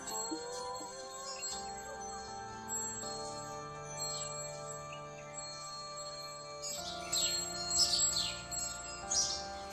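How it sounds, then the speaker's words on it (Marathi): Village birds chirp faintly in the early morning, with scattered high tweets that grow busier toward the end over a soft, steady tonal background. "कशी आहे पक्ष्यांची किलबिल."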